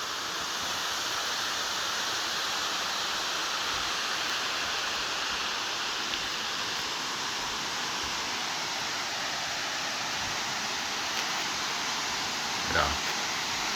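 Water rushes steadily at Natural Falls State Park in Oklahoma, a dense, continuous hiss-and-roar that stays even in level from start to finish, heard from a moderate distance.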